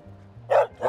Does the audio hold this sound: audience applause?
no